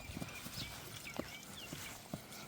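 Hooves of Kyrgyz and Russian horses clip-clop in an irregular rhythm against a steady outdoor background, fairly faint and at some distance.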